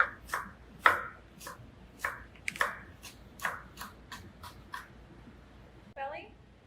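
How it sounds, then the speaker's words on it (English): A knife chops through braised pork belly, cooked down with brown sugar, cutting it into strips on a board: about a dozen crisp, fairly even strikes close up, ending in a brief scraping sound. "Belly, just going to cut it in strips."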